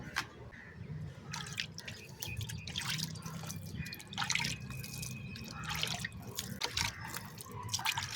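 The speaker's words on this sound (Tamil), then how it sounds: "அப்படியே நம்ம தண்ணியை நம்ம தெளிச்சிடலாம்." Water sprinkled by hand over freshly planted shallots and onions in a home garden: scattered drips and splashes land in irregular bursts over a low, steady background, fairly close.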